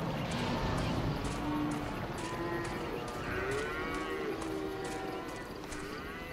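Cattle mooing in the hunting video game Cabela's Dangerous Hunts, several long, low moos overlapping and drawn out against a busy background of game sounds.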